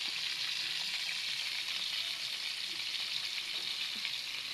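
Pechay greens fry in a pan with a steady, close, dense sizzle that hisses evenly throughout, with faint stirring beneath and no talking.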